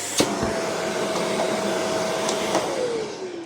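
A Philips vacuum cleaner fitted with new filters runs steadily at close range, a constant broadband whoosh with a faint whine, a few light clicks and a slight pitch drop near the end.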